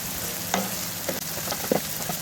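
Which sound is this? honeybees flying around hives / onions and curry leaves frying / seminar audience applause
onions and curry leaves frying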